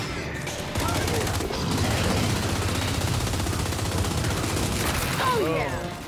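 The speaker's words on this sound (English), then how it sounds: "Who's firing from where?" Sustained automatic gunfire from Gears 5, a dense loud barrage of machine-gun bursts and heavy booms filling the whole stretch, with shouted voices surfacing briefly near the end.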